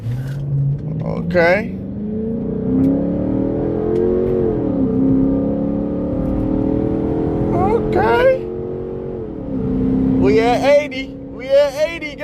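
At a drag strip launch, a car's engine revs up off idle with a rising, wavering drone, dips, then climbs again near the end, while someone talks over it nearby.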